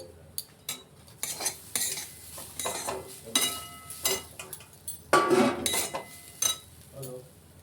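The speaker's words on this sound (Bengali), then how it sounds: "লো ফ্লেমে ভালো করে নারকেলগুলোকে একটু হালকা করে আমরা ঠিক ভেজে নেব" Grated coconut roasting on a low flame for modak, with repeated scraping and clinking of a spatula against the pan over a soft sizzle, an irregular rhythm of strokes, and no voices.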